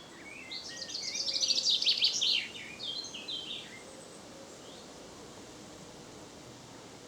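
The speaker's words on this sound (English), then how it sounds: "at the moment I'm hearing at the same time a chaffinch" A chaffinch sings a quick descending trill of bright chirps followed by a shorter phrase, moderately near against a soft outdoor hush.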